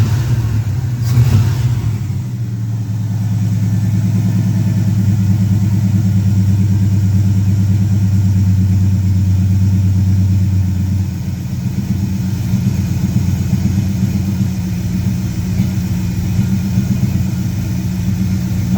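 A 1972 Pontiac LeMans engine runs loud and rough with its exhaust off and a misfire, a deep, uneven rumble, revving at first and then settling into a throaty, sputtering idle.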